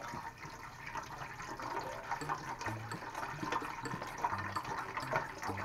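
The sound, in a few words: pouring vegetable broth into soup pot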